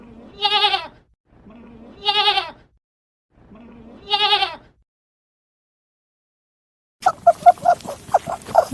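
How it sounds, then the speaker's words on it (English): A goat bleats three times at evenly spaced intervals, loud and close, each cry a short wavering call with silence between, followed by a different brief, busier animal sound at the end. "Goat."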